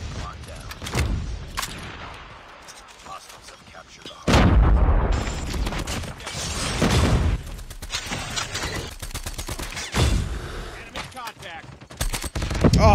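Rapid automatic fire from the Man O War rifle in a ranked multiplayer shooter, loud bursts of close gunshots alternating with short quiet gaps, accompanied by booming impacts and someone talking at times.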